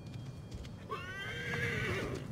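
A horse in the video game Assassin's Creed Origins gives one clear, rising and falling whinny lasting about a second, close and prominent over soft hoof clip-clops and game ambience.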